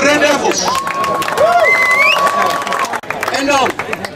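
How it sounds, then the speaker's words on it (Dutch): A crowd at a rugby club family day applauds and cheers for the Red Devils team, with clapping mixed with lively voices, whistling tones and chatter throughout. "Applaus voor de Red Devils."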